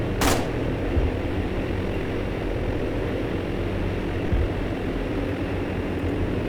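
Propeller warplane engines in a World War II-style video game drone steadily and loudly, opening with one sharp crack, then holding an unbroken, even roar throughout.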